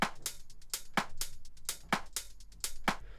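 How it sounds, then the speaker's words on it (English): A short drum loop sample from Splice plays at low volume, with a busy groove of crisp hi-hat and snare hits over soft kicks in a steady repeating rhythm. There is no voice over it. "found this little drum loop here on Splice"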